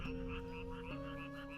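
Toads croak in a rice paddy on a summer night, a rhythmic chorus of repeated pulsing calls that carries steadily under a faint tonal background with no voices.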